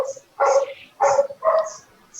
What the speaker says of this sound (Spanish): increíble cómo hay perros en la calle